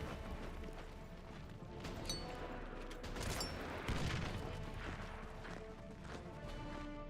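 Artillery bombardment in the World War II strategy game Order of Battle: Blitzkrieg at the Battle of Dunkirk: a faint, dense rumble of repeated blasts and crackling fire rolling on steadily with no talk.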